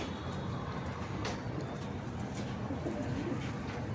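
Pigeons cooing in a racing pigeon flyers loft, a steady low murmur of overlapping coos filling the space with a constant bed of soft noise throughout.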